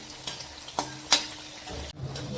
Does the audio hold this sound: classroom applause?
no